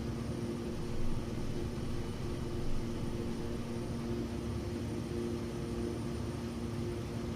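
Aircraft engine roaring steadily as the plane flies at speed in a game, a constant droning whoosh with a slight hum, even in loudness throughout and with no talking.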